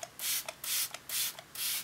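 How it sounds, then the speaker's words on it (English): Iconic London Glow setting spray is misted from a pump bottle onto a made-up face in four short, even, hissing spritzes at close range, with brief gaps between them. "And then I'm gonna finish with my Iconic London Glow Spray."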